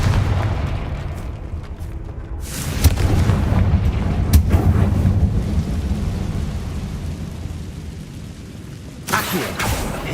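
A Confringo spell in Hogwarts Legacy bursts with a booming blast and rumbling debris, followed by a crackling tail, then a second sharper burst near the end.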